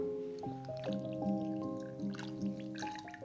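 Water being poured into a small saucepan holding vanilla sugar in a home kitchen, a short gurgling trickle and splash, close and quiet, with some clinking tones over it.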